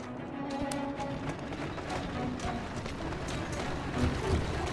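Horse hooves clip-clopping in the video game Assassin's Creed Syndicate, a steady rhythm of light hoofbeats at walking pace over a busy background with soft mechanical sounds.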